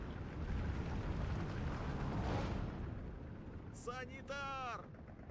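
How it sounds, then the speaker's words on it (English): A concentrated mortar barrage in the WW2 strategy game Steel Division 2 rumbles as a low, rolling wash of distant blasts, fairly quiet overall, with a voice speaking near the end. "Nice concentrated mortar barrage"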